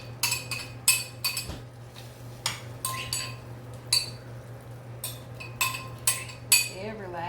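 Utensil scraping beaten eggs and milk from a bowl into a pan, a series of sharp clinks and scrapes against the bowl in an irregular rhythm over a low steady hum, close and fairly loud.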